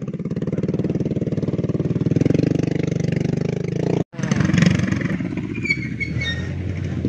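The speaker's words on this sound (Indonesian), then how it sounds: "Nah ini motor yang saya naikin ini." A small motorcycle taxi engine labors steadily uphill on a slippery mountain trail, a close, loud, continuous putter with a brief cut-out midway before the engine picks back up.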